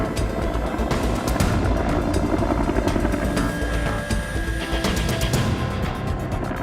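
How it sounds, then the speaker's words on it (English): A loud, steady roar of helicopter rotors and engine, heard up close and continuously with no talking. "I've never been in a helicopter before, but yeah, just the noise was unbelievable"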